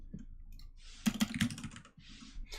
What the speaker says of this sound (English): But I really like the sound of this keyboard.